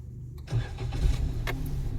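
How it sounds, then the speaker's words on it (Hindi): A car's starter cranks the engine after a short quiet moment, followed by a rough catch and a continuous mid-pitched running rumble, loud and close. "स्टार्ट करो गाड़ी को, आगे को सेल्फ मारो"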